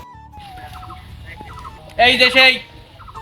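Poultry call from close by, with short clucks and a sudden loud burst of squawking near the end, under a few words of speech.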